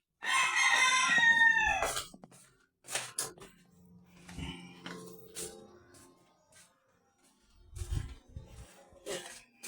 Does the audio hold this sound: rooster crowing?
yes